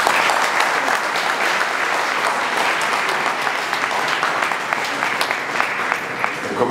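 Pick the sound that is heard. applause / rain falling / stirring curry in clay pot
applause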